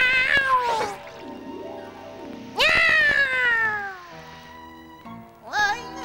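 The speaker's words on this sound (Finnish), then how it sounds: "Kissa, missä?" A cartoon cat meows loudly and close, two long drawn-out descending cries with a shorter one at the end, over soft background music in a children's animated series.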